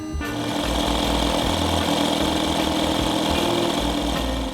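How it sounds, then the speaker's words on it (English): An electric paddleboard pump's compressor runs hard with a loud, harsh mechanical rattle and steady rapid pulsing, close and continuous after a brief start. "once the compressor kicks in,"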